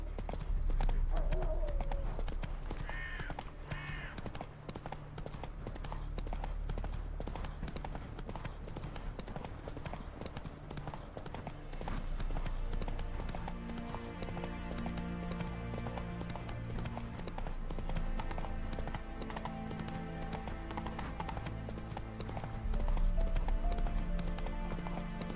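Roach, Geralt's horse in The Witcher 3, gallops with steady rapid hoofbeats throughout, set against continuous orchestral game music and an occasional whinny.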